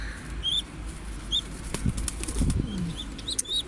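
Pigeons flap their wings as they fly down, several bursts of fluttering wingbeats mixed with short high chirps and whistles outdoors against a low background rumble.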